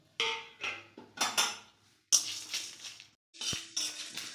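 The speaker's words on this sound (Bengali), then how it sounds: "আর এখানে কড়া জ্বালা দিয়েছি। আমি এই মশলাগুলো একটু ভেজে নেব।" Fennel, coriander, cumin, dry chillies and whole garam masala dry-roasted in a hot wok, heard as a series of close, sharp scraping and clinking strokes of a spatula against metal, arriving in short bursts with brief pauses between them.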